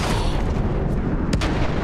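Continuous battlefield gunfire and booming artillery from the Battlefield 1 campaign, a dense, loud wash of shots with a couple of sharper cracks near the end, with no talking.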